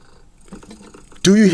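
A cat purring, played back through a new 2020 iPad Pro speaker; the loud, steady purr cuts in abruptly near the end after a stretch of quieter background with faint voices.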